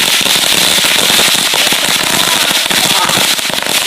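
A whole box of firecrackers burns in a fire, setting off a dense, rapid barrage of sharp crackling pops that runs loud and continuous from start to finish, with faint voices mixed under the bangs.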